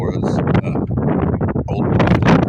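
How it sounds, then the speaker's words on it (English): Strong wind buffets the microphone outdoors in Fort Smith, Arkansas, a loud continuous rumbling roar that barely lets up, with a person talking through it. "it's very windy out here"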